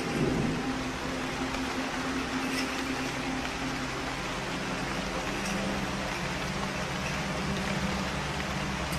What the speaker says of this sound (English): The first April showers finally fall on the savannah.